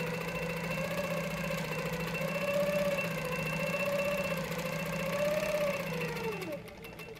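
A longarm quilting machine stitches a single line across a quilt, giving a steady close mechanical hum with a rising and falling motor tone that winds down at the end, with no voices over it.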